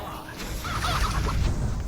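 Video game death chickens cluck and honk in a noisy, goose-like burst over a rumbling battle background.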